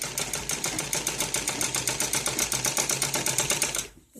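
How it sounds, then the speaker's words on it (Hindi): A sewing machine stitches net cloth for a ladies' suit, a fast steady mechanical whirring and clacking close up that stops abruptly at the end, with no talking. "ऐसे इस सिलाई को मुझे इधर ही उतार देना है।"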